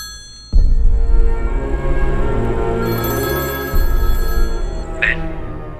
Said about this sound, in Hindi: भवानी, अपने भाई को फोन लगाकर बात करो।